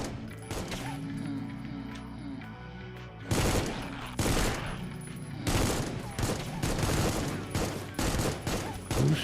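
Assault rifle fire in the survival shooter Once Human: several loud, close bursts of shots crack out in rapid clusters over a low game ambience, with no talking.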